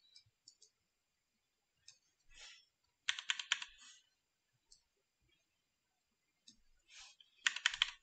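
Keyboard arrow keys pressed while editing in DaVinci Resolve, making faint close clicks in scattered single taps and short rapid bursts against near silence.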